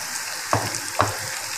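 Noodle pakoras are dropped by hand into hot oil; two quick soft plops rise over a continuous bubbling fry, close and moderately loud.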